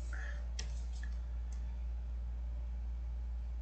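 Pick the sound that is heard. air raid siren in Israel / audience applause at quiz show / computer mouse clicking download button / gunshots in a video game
computer mouse clicking download button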